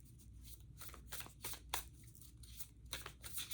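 Tarot cards riffle and shuffle in quick repeated bursts of crisp, papery flutter, close by, with short pauses between the passes.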